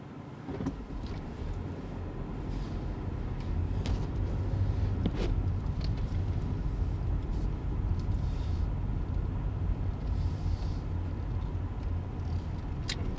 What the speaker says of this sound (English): Driving, going through the loop here in front of the hospital now.